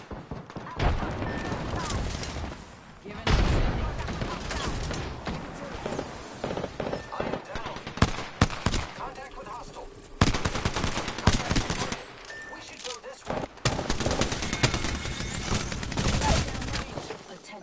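Rapid bursts of video game gunfire crackle and rattle almost continuously, with dense automatic fire, sharp single shots and brief lulls, loud and close under occasional voice chat.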